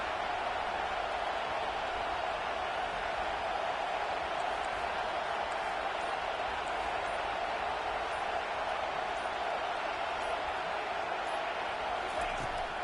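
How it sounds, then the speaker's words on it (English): A stadium crowd at a Clemson college football game on a third-down defensive play keeps up a dense, constant roar, heard fairly faintly, with voices mixed in. "Decibels rising as the crowd gets behind this defense on 3rd down."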